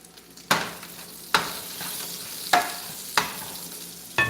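Onions fry in a pan, a steady close sizzle broken by several sharp scraping stirs of a utensil at irregular intervals, with no talking.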